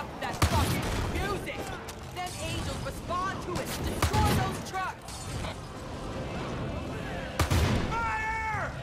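Explosions and gunfire in the Far Cry 5 video game, with several heavy booms and bursts of shots, while fire from a Molotov spreads and a player shouts over the action.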